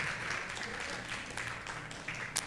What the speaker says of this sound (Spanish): ¿Quieres aplaudir al Señor?